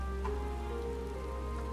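Steady rain falls in the Final Fantasy 14 game world, an even, continuous patter with no breaks, alone without speech.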